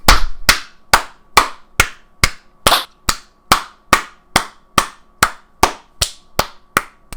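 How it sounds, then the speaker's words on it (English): About fifteen sharp, evenly spaced hand claps ring out alone in a quiet room, steady and close, as podcast hosts clap to close out an episode. "Let's clap this out."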